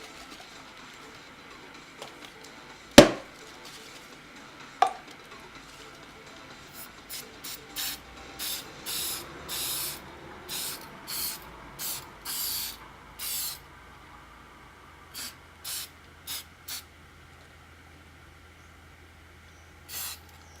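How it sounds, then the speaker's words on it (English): Several short bursts of spray from an aerosol can over PanPastel artwork, coming in a loose, irregular series of hisses that are fairly near and clear in a quiet room, after a couple of sharp knocks. "So you can see we have sprayed it."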